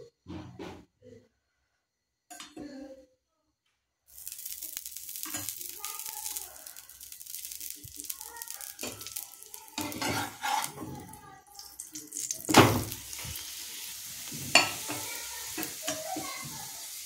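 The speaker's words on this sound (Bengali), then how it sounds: "এরপর এখানে দিয়ে দেব সাদা তেল, দিয়ে এটাকে আমি পরোটা ভেজে নেব।" Cauliflower-stuffed paratha fries in white oil in a pan, a steady soft sizzle starting after a few quiet clinks, with stirring scrapes and pan knocks on top, moderately close.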